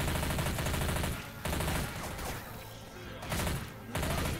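Sustained automatic gunfire in the zombie shooter Left 4 Dead 2 at a gas station, loud and dense bursts with brief pauses near 1.4 and 4 seconds.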